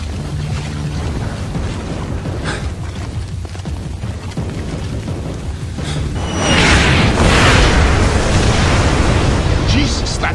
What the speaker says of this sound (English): Jesus, that's not mortar fire. Sounded like Katushas.